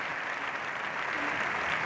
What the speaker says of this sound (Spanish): El Congreso al completo aplaudía en pie al presidente ucraniano al término de su discurso